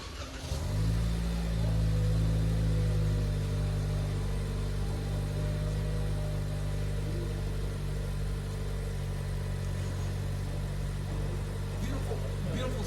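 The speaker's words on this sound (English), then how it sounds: "Beautiful startup on the ES250." A 2024 Lexus ES 250 fires up with a short crank and rev flare, then settles into a steady, smooth idle that carries on up close for the rest of the stretch, with no talking over it.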